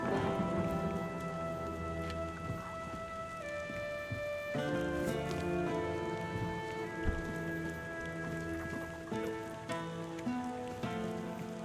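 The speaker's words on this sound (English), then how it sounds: "It's raining." Rain falling in the game Tainted Grail, a steady soft patter under a background music score of held tones, quiet throughout.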